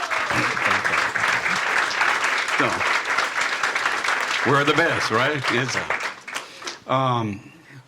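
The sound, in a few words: round of applause at a town hall meeting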